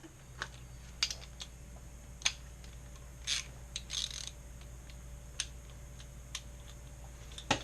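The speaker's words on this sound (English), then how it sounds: "Now we're going to go ahead and remove the original bolts now." A ratchet wrench with a 17mm socket clicks in short, scattered bursts while loosening the original bolts on a Yamaha FZ-07 motorcycle, close but fairly quiet, with brief gaps between turns and no talking.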